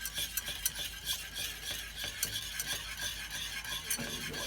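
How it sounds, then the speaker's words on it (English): A whisk stirs a thickening bechamel sauce in a pan, giving steady rhythmic scraping and swishing strokes with a faint sizzle underneath, close and continuous with no talking. "I can feel it getting thicker under my whisk"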